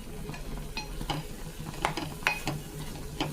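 Frying eggplant curry being stirred as chili powder goes in: a steady sizzle under scattered scraping clinks of a spoon against the pan, close and continuous, with no voices.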